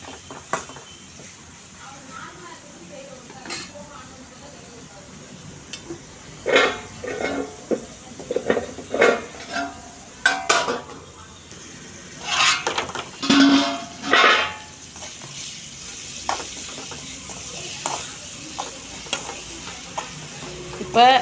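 Onions and tomatoes sizzle in a pan as a spoon stirs and scrapes them in bursts of clatter over a steady frying hiss, with someone speaking now and then.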